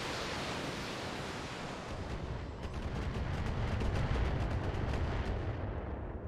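A Catapult mech firing an artillery barrage in Battletech: a dense, roaring wash of rapid blasts and booming rumble, with a quick run of sharp impacts in the middle before the roar carries on.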